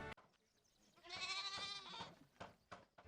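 A goat born without hind legs bleats loudly in a village, one long quavering cry followed by shorter bleats, close and clear with no talking.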